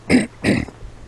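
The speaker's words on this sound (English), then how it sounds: "Sorry about the coughing. It's been stuck in my throat." A person coughs twice in quick succession at close range, two short rough bursts, followed by a faint throaty trailing sound.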